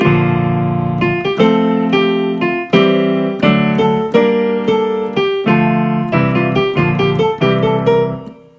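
Solo piano plays a section of a tune from the anime soundtrack of Kimetsu no Yaiba: Infinity Train, with close, steady chords and a melody moving in even phrases, no voices.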